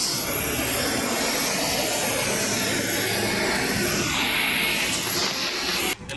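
Continuous loud roar of a jet aircraft engine heard while boarding a flight through the rear door, a dense steady whoosh filling the whole stretch with no talk, cutting off abruptly at the end.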